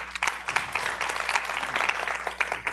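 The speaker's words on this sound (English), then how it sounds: "let's get another round of applause for Silicon Valley Bank and Cooley" Conference demo day audience gives a dense, steady round of applause, many hands clapping together at moderate loudness for the whole stretch.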